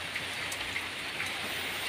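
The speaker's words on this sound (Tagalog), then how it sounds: "Kusong na ulan." Heavy rain pours down during a storm, a steady, dense hiss of drops striking surfaces with a few sharper patters, and no thunder or voices stand out.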